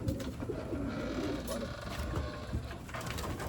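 Racing pigeons cooing in a loft, a steady murmur of overlapping low coos with soft fluttering and shuffling throughout, close and moderately loud.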